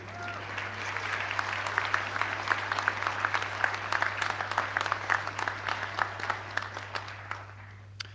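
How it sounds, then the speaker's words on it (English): Graduates at an aviation and security graduation ceremony applaud and cheer, a sustained crowd clapping with sharp individual claps standing out over a steady low hum, fading toward the end. "that's the point where you really cheer yourself"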